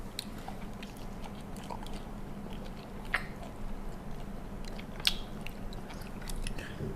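Fresh raw squid in a spicy Thai salad is chewed close to the microphone, giving repeated wet, squishy bites and soft crunches over a low steady background.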